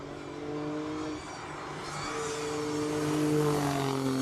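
Alfa Romeo Stelvio Quadrifoglio SUV running a hill climb course in Cape Town, its engine note droning steadily with rising pitch as it accelerates, moderately close and growing louder toward the end.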